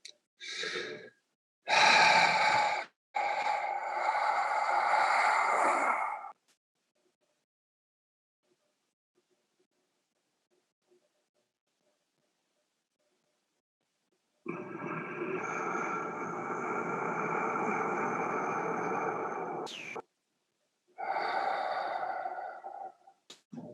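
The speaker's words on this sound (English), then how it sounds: "So a nice breath in, exhale, hold it, and then slowly inhale." Slow, deep breathing exercise: a long, audible inhale and exhale, then a long held silence, then another extended breath and a shorter exhale, close and clear, with no talk.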